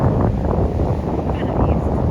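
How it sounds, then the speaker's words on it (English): Steady wind rushing over a sailboat at sea during a night passage from Guadeloupe toward Puerto Rico, a constant loud low roar with buffeting against the microphone and no breaks. "Wind is coming from southeast,"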